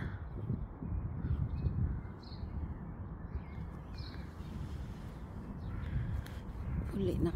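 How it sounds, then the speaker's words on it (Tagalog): Crows caw a few times at a distance over a steady, low rumbling background. "Birds."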